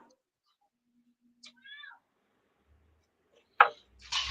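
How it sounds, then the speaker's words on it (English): A cat meows a few short, thin cries in a quiet room, with a louder cry and some rustling toward the end; no talk. "Feed that cat. It sounds hungry."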